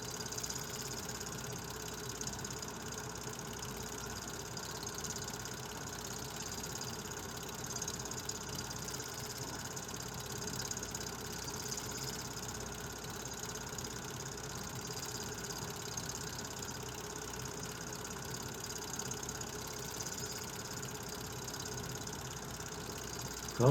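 An L&N diesel switch engine locomotive idling in Louisville, Kentucky, a steady low rumbling drone with constant mechanical hum, unchanging and moderately distant, with no voices.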